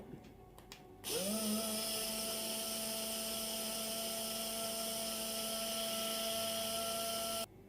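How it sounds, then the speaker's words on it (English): A blender grinds rice into powder: after a second of room quiet the motor kicks in with a steady, loud, high-pitched whine that holds evenly until it cuts off near the end. "I can blend more. So I'm gonna blend more."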